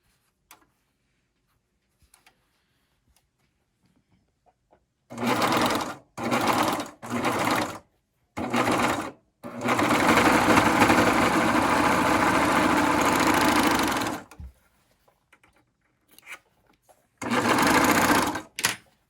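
A serger stitches slowly through several layers of fabric while sewing a medical face mask, in short close motor bursts with pauses, then one long steady run and a final burst.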